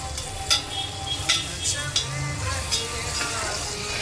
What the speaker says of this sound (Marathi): चांगलं परतून घ्यायचं, एकजीव करायचं